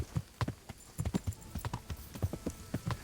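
Horse hooves clip-clop in the medieval game Kingdom Come: Deliverance, an irregular run of distinct, close thuds across the clip with a faint snort or whinny.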